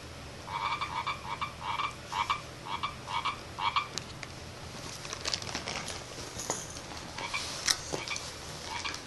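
Many frogs croak from a phone or tablet screen app, a rapid repeated chorus of bright pulsed croaks in bursts, loud and close, then fading into softer clicks and crackles with faint room noise.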